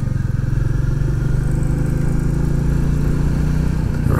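A Royal Enfield Classic 350 single-cylinder engine thumps steadily while riding a country road in the Peak District, the close, continuous pulsing note running loud and even with no talking.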